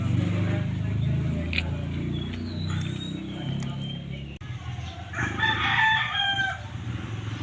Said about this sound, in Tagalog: Ayun, ang daming ibon.